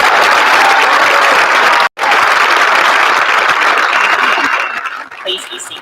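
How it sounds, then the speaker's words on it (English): An audience at a high school graduation ceremony applauds honor graduates, a dense, loud wash of clapping that breaks briefly and then tapers off near the end. "Let's give these ladies and gentlemen a round of applause."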